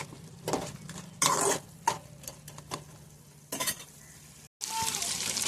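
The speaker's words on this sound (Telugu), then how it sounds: "పసుపు వేసుకొని బాగా చికెన్ కలుపుకోవాలి." Chicken pieces coated in turmeric sizzle in a pan while being stirred, with repeated scraping and clattering strokes over a steady fry, briefly cutting out before the sizzling resumes.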